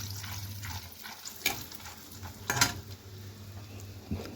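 Almonds fry in a pan with a faint, steady sizzle under a low hum, broken by a couple of light metallic clinks as they are stirred.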